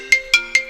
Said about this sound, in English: my phone's not going off all day, and then as soon as I go online, my phone blows up